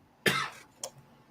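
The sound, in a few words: coughing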